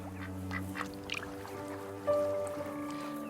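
Duck quacking in the video game That Dragon, Cancer, several short nasal quacks over a steady tonal music bed, with a brief splash-like squish, no talking.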